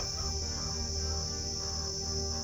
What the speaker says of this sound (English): how loud the cicadas are